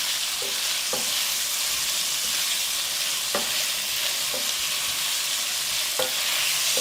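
Garlic paste with garlic cloves sizzling in a stir-fry pan for a shrimp and peppers dish, a close, steady frying hiss marked by a few sharp scrapes and clicks of the stirring utensil.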